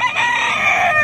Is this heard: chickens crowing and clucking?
yes